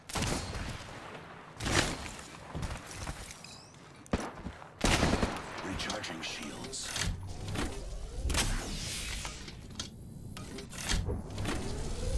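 Gunfire in Apex Legends, a busy stretch of repeated sharp shots and bursts at varying distances over twelve seconds, with clattering in-game sounds and ambience between them.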